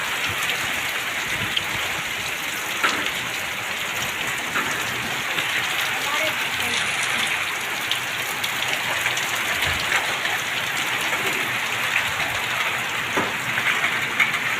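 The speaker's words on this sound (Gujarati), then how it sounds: "જોઈ શકો છો મિત્રો, કેટલો ભારે વરસાદ ચાલુ છે વાવાઝોડા સંગાત." A windstorm drives heavy rain across open farmland near Patan, producing an unbroken, loud roar of rain and rushing wind with occasional louder gusts and splashes, steady from start to finish.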